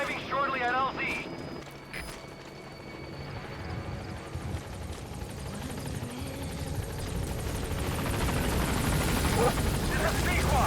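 Support helicopter in Metal Gear Solid V arriving at a landing zone, rotor roar building steadily from a low rumble to a loud, close wash over about ten seconds, with brief game sounds early on.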